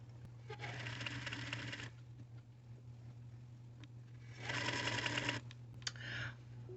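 A sewing machine stitches around a pant pocket in two bursts of rapid, fairly quiet mechanical whirring, separated by a pause with light clicks and handling noises.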